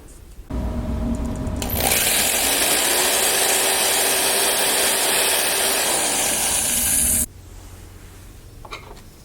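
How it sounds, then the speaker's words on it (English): A drill whirs steadily, its pitch rising as it bites into a wooden Leyden jar lid, grinding loudly for several seconds before stopping, with quiet room noise on either side. "I will now drill a hole through the wooden lid to the Leyden jar"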